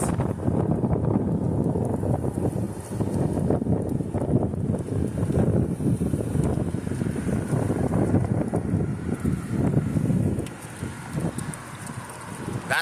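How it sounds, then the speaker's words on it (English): Strong gusty wind buffets an outdoor microphone beside traffic lights at a high school, a steady loud rumbling roar with surging gusts throughout, easing briefly near the end. "It's really windy."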